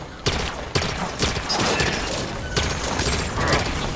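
Rapid automatic gunfire rattles in the Halo 5: Guardians video game, loud sustained bursts with sharp separate shots and mechanical weapon clatter throughout.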